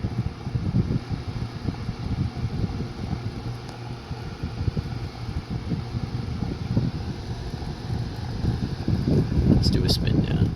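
A Wexford box fan running on high blows a steady, close, rushing roar of air, with a heavy low rumble and wind buffeting on the microphone that hold for the whole stretch.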